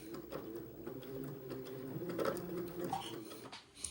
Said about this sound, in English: I will sew this piping to the facing